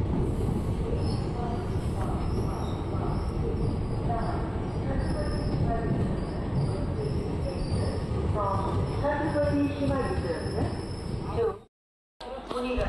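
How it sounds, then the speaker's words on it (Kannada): A train pulls into platform 3 at Bagalkot railway station in India with a steady rolling rumble and scattered wheel squeals. Voices murmur in the background, and the sound cuts off abruptly near the end. "ಫ್ರೆಂಡ್ಸ್, ನಮ್ಮ ಟ್ರೈನ್ ಈಗ ಬಾಗಲಕೋಟೆ ರೈಲ್ವೆ ಸ್ಟೇಷನ್ಗೆ ಬಂದಿದೆ"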